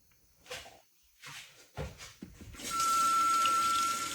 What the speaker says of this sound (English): Rinse those hands off.